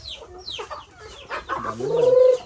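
Native chickens on a farm cluck close by in a few soft calls, ending with a louder, drawn-out cluck.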